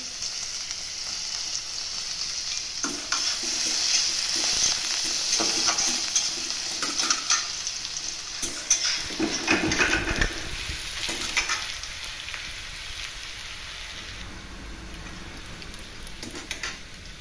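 Onions frying and being stirred in a pan for a mushroom (bali chhatu) besara dish: continuous close sizzling with scattered stirring scrapes and taps, no one speaking.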